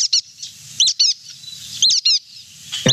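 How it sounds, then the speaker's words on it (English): A brown-headed nuthatch call is played back from a smartphone outdoors: loud, squeaky, high-pitched chirps in short paired bursts repeat several times, with faint low rumble between them and no talk. "if you wanted to hear the sound of the brown-headed nuthatch"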